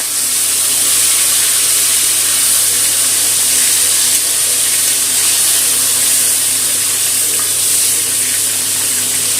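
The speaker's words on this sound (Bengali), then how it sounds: "মাছের মাথাটা ভেজে নেব।" A hilsa fish head fries in oil with a little turmeric in a pan over low gas, giving a loud, steady, continuous sizzle with no pauses.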